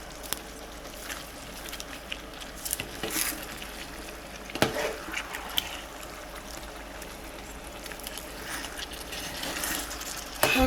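Spinach and potato being stirred in a frying pot, steady sizzling with scraping spoon strokes and occasional sharp clinks against the metal, fairly quiet with no talking.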